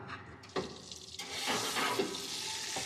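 Lamb chops searing in a hot pan give a soft, steady sizzle and crackle, with a few clinks and shuffles of handling over it.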